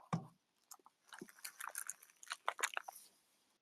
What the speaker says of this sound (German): Und du knusperst irgendwas.